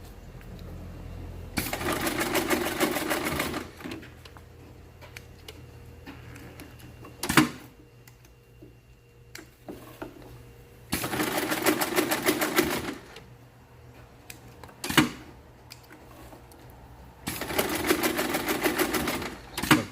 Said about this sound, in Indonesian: seperti ini saudara-saudari proses menjahit jaringnya, jadi nggak ribet, nggak susah